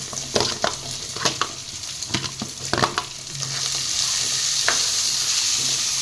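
Onions for pirandai (veld grape) chutney sizzling in a pan, a steady broadband crackle with sharp scraping stirs near the start that give way to a denser, even sizzle; no talking.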